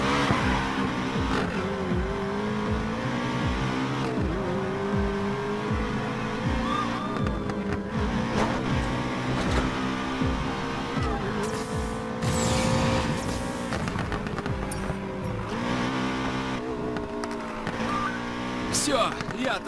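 In Need for Speed: Payback, a car flees bandits with a revving engine, tire squeals and skids, and crashes or impacts punctuating the chase, dense and loud throughout.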